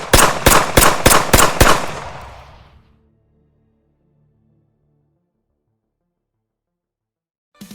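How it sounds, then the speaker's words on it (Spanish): Gunshot effect in a Spanish-language audio drama: six rapid, sharp shots in quick succession, loud and dry, followed by a long decaying rumble and then near silence. "A los pocos minutos se escucharon los primeros disparos."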